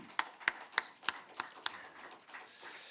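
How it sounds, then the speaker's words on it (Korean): A handful of slow, evenly spaced claps from a church congregation at the end of a worship service ring out, six or so, fairly faint and thin, trailing off into quiet room noise. "감사와 영광의 박수를 올려드리겠습니다"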